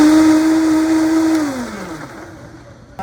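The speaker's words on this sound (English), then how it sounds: "We're gonna blend it." A blender whirring banana, egg white and maple syrup runs as a loud, steady motor whine, then spins down with falling pitch and fades to near silence before a brief click at the end.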